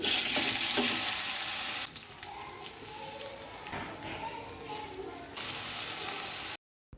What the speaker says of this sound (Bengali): এবার বড়ি ভাজছি